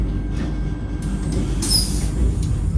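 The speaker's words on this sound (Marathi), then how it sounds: "ट्रेन निघाली आहे" A low, steady rumble of a moving Vande Bharat train heard from inside, with a brief high squeal partway through.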